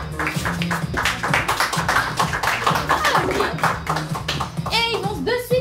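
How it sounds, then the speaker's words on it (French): Audience at a Paris improv festival clapping loudly for the players as they take the stage, bright continuous applause mixed with music and a voice talking over it. "On peut les applaudir très fort."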